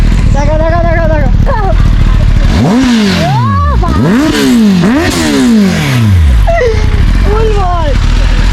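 A 10R motorcycle engine revs hard and close in a series of loud rising and falling throttle blips, with a faint voice early on.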